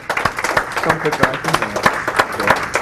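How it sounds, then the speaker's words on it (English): An audience at a Christian life-coaching talk claps for a guest, individual claps standing out in an uneven, fairly close patter with cheering and talk mixed in. "Sweet. All right, give him a round of applause."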